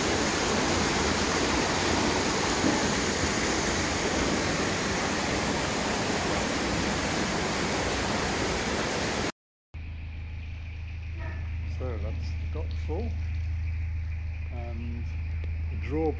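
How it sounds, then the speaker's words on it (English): Water rushes steadily into a narrowboat dry dock at Braunston as a loud, constant broadband roar; after a brief cut, a quieter low hum follows with faint voices. "This is the dry dock getting wet again."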